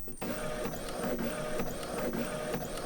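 A printer prints a sticker sheet with a quiet, steady mechanical whir, broken by faint rhythmic clicks and passes of the print head.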